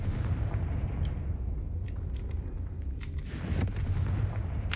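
A Confringo blast spell goes off in Hogwarts Legacy, a booming burst over a low rumbling game soundscape, with a second sharp crack near the end.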